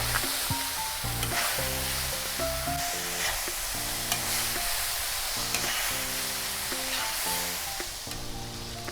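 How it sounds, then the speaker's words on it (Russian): Chopped onion and garlic sizzle steadily in oil in a cauldron-style kazan over a fire, a continuous loud crackle under a repeating low musical backing, with no voices. "где-то 10 минут у нас обжаривался лук с чесноком"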